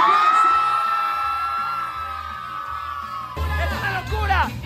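Crowd of adults and children at a Halloween party in a hall, with one long drawn-out shout followed by a burst of loud, overlapping whoops, yells and cheering.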